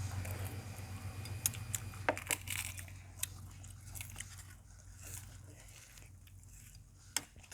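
Someone eats hot steamed rice with banana blossom curry cooked with blood, making close, wet chewing and mouth sounds with occasional sharp clicks of a utensil, uneven and intimate, with no talking.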